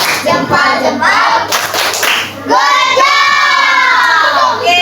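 Fifth-grade pupils in a classroom clap a rhythmic cheer together, loud sharp hand claps in short patterned bursts, with excited children's voices shouting and chanting over them.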